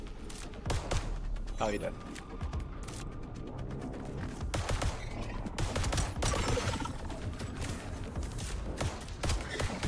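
Rapid gunfire in the video game Void/Breaker, bursts of sharp shots and mechanical clatter running throughout at steady loudness, with a voice speaking briefly over the action.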